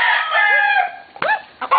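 A young rooster (stag) crows loudly and close by, a long strained call followed by a couple of shorter clucking cries.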